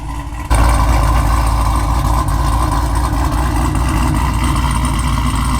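A cammed, built V8 in a Camaro idles with a loud, lopey chop, its uneven rumbling pulse close and steady after a brief quieter start, with no talking over it.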